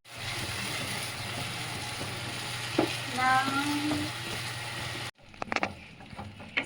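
Eggplant mash with Kashmiri chilli being stirred in a frying pan: a low steady sizzle with scraping strokes from a spoon and a few sharp clatters near the end.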